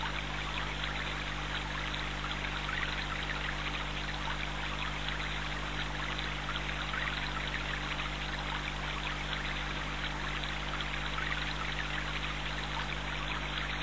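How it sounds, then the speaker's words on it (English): Water flows in a steady, even stream for meditation, a continuous soft rushing and pouring with no pauses, unchanging and alone, with a faint low hum beneath. "allow the sound of the water to relax you"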